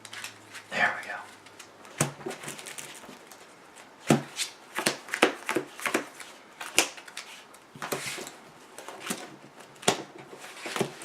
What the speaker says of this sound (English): let's shuffle that in